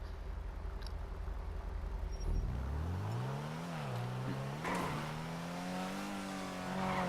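Ocelot Ardent sports car in GTA Online, its engine droning steadily and rising in pitch as it accelerates, with revs dipping and climbing again through gear changes, close and loud with no talking.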